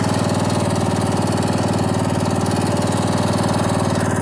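An old lawn mower engine idles close by with a rapid, steady, even chugging that holds for the whole few seconds, with no voices.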